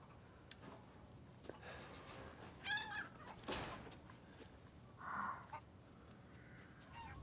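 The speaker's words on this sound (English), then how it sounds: "I got a trophy for shooting a chicken!" A chicken in Resident Evil Village gives a few short, quiet clucks and squawks amid low ambient game noise and scattered sharp sounds, with no talk.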